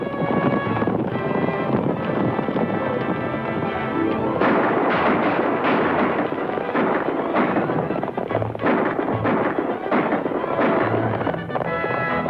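Rapid, loud gunshots fire repeatedly in a 1942 western film scene, dense cracks and booms overlapping with horse hooves and commotion throughout.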